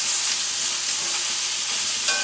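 Short ribs sear in a hot cast iron pan with a dense, even sizzle that holds steady and close throughout, with no talking.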